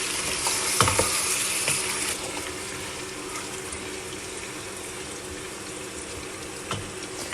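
Pieces from 2 kg of lamb leg sizzle steadily with fried onions as they are stirred for a lamb biryani, a dense continuous hiss with occasional scraping clinks from the spoon, close and alone.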